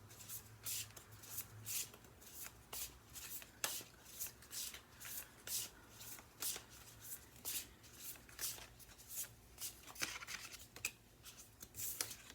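Tarot cards are shuffled and drawn by hand, making soft, quick riffling and slapping sounds in close, irregular bursts at low volume, with no talking.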